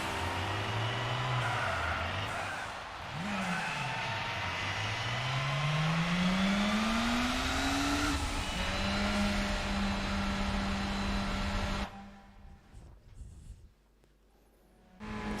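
A race car drifts sideways in Gran Turismo 4, its engine droning and rising and falling in pitch as it revs, loud and steady, then dropping abruptly into quieter scuffing near the end.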